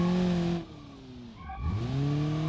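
A car with a CVT and welded rear differential slides into a skid, its engine droning in a steady tone that drops away briefly, then climbs back in pitch as it revs up again.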